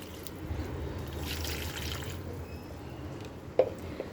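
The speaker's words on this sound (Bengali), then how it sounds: "তো এই গাছগুলোতে একটু জল দিয়ে নিলাম" Water trickles and dribbles steadily onto dry potted plants, including a curry leaf plant, a soft continuous pour with light outdoor background and a small knock near the end.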